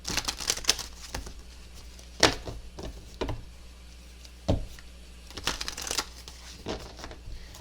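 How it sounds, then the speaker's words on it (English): Tarot cards being shuffled and pulled, giving a run of crisp riffling and crinkly paper flicks in quick bursts with sharp snaps between them, close to the listener and without talk. "I'm going to pull some more cards to get some more advice for you"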